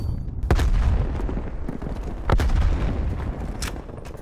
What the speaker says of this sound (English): Keep launching grenades.